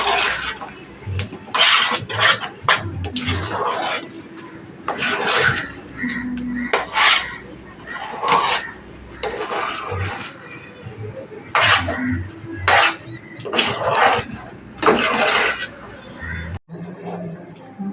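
Thick, heavy banana halwa being scraped from its pot and poured into a ghee-greased plate, with repeated bursts of utensil scraping and clinking against metal, close and fairly loud, alongside some nearby talking.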